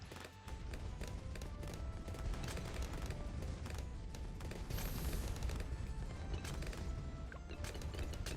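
Laser blast attack firing in the tower defense video game Bloons TD 6, a dense continuous barrage of rapid crackling shots and bursts layered over game effects, loud and sustained throughout.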